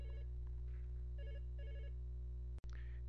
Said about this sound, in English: Sorry, I was interrupted by a phone call.